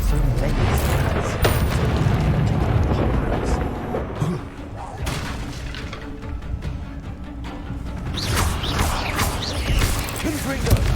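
Confringo spell blasts in the Hogwarts Legacy video game, loud booming explosions and crashing debris in a dense, continuous barrage with brief lulls, mixed with game noise and a voice talking.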